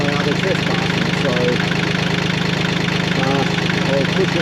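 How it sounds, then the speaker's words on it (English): Tractor engine idling steadily nearby, a continuous low chugging throb with a rhythmic knock, loud and unchanging throughout, with faint voice-like bursts under it. "so you can hear it go down without the noise of the tractor"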